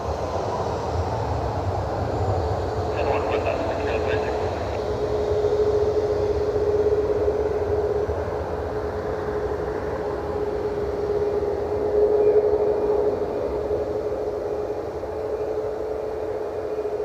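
A Delta airliner, flight 880, climbs out of Cleveland Hopkins airport, heard as a broad, steady roar with a faint whine that swells and eases gently over a long stretch, no voices.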